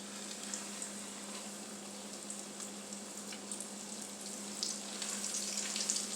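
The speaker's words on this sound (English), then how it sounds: "While we're over here, we're going to drop in some pork chops." Pork chops frying in hot grease in a pan, a steady, fairly quiet sizzle with faint crackles throughout, no voices.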